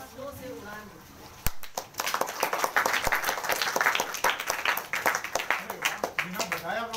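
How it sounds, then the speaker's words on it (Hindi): Children break into lively clapping after a pause, a dense patter of many small hands that swells and carries on for several seconds, with some voices mixed in. "बिना बताया आप लोगों ने ताली बजा दी"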